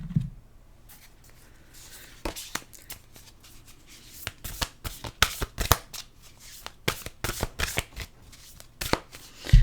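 Oracle cards being shuffled by hand, with a quiet start and then a run of crisp, close riffling and slapping bursts that come in irregular clusters.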